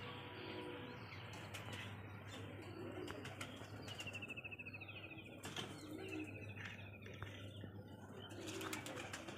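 Village pigeons take off and fly, their wings flapping in quick, soft bursts, while faint chirps and coos sound in the background of a quiet outdoor loft area.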